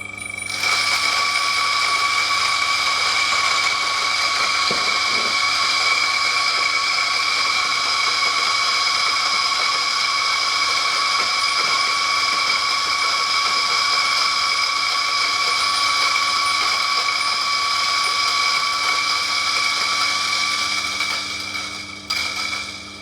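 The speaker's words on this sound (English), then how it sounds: "I'm going to start the grinder, and then in goes the coffee" A coffee grinder whirs steadily and loudly for over twenty seconds, crushing freshly roasted light-roast Yunnan beans, a constant high-pitched motor whine with a gritty mechanical undertone that cuts off at the end; no voices.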